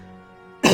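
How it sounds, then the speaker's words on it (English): A single sharp cough bursts out loud at the very end, following a low, steady tonal hum, in a home commentary recording. "I had to cough."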